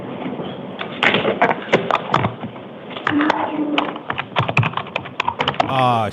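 Rapid, uneven keystrokes on a computer keyboard clatter up close in a noisy hearing room of a state pardons and parole board, with a voice talking over part of the typing.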